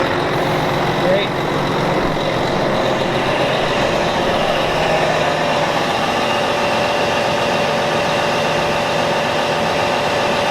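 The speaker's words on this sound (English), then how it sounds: "Good running truck." A Ford F350 Powerstroke turbo diesel truck engine idles with a dense, steady rumble and faint turbo whine, close and loud, continuous throughout; a voice may be present beneath the engine noise.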